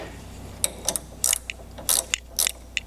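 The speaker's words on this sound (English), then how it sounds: "We'll get our wrench." A ratchet wrench tightens a nut on a Mustang steering kit, producing several quick bursts of sharp ratcheting clicks close up, spaced irregularly over a low background hum.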